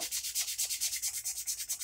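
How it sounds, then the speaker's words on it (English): Rhythmic back-and-forth scratching of 220 grit sandpaper on a handmade sanding block against a knife, about a dozen quick even strokes, close and alone. "220 grit sandpaper, little handmade sanding block, and a lot of time."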